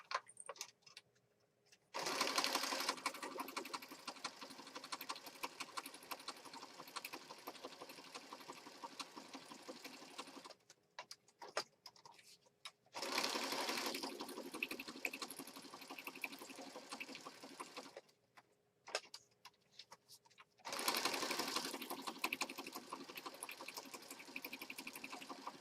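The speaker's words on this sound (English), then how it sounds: "I'm just going to stitch from the sides all the way around" A sewing machine stitches around the edges of a handmade apothecary junk journal in three long, steady whirring runs separated by brief quiet pauses and small handling noises.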